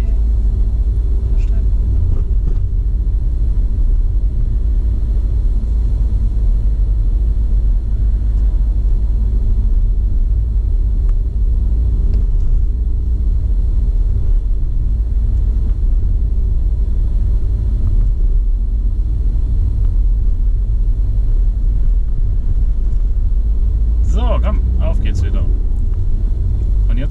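Car driving in traffic during a driving lesson, a steady low engine and road rumble throughout, with an instructor and learner talking over it.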